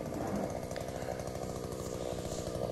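A Takeotika 2.5B handheld earth auger with a 68cc petrol engine drills a 30 cm hole in soil. Its loud, steady two-stroke engine drones close by with a fast rhythmic chatter and does not let up.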